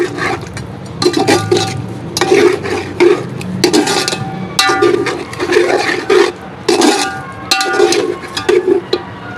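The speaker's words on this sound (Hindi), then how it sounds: "अच्छी तरह से फेंट के इसके अंदर ऐड कर देंगे। इसको मिक्स कर लेंगे" Whisked yogurt stirred into a pot for white yakhni pulao, a spoon scraping and clanking against the metal pot in a steady repeated rhythm, close and loud.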